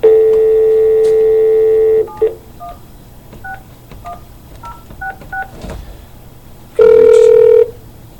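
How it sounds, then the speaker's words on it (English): Telephone touch-tone dialing: a long steady tone, then a quick series of short button beeps, then another long tone near the end, loud and close with no talking. "I'm trying to get the phone to work here"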